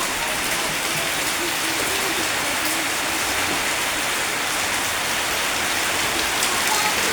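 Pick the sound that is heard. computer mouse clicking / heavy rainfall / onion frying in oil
heavy rainfall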